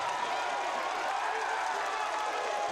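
A football crowd cheers at Catawba's homecoming game after a senior's 34-yard touchdown run against Tusculum, a steady, dense roar of many distant voices filling the stadium with no breaks.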